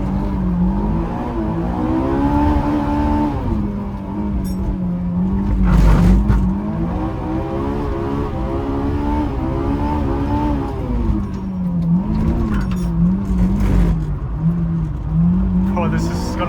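A 90s JDM car with a VTEC engine accelerates at full throttle in first gear, its engine note climbing steadily and loud, with a brief dip and surge. A person talks over the engine throughout.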